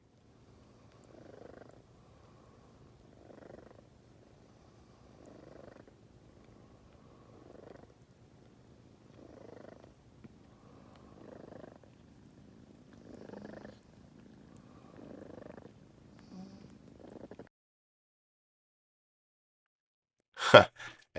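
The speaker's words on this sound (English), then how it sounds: "you can really hear how Chong purrs very loudly while being licked by his brother Cheech over here" A cat purrs loudly and rhythmically while another cat licks it, close up in a quiet room, each purr swelling and fading in a steady cycle until it stops, followed by a brief sharp rustle.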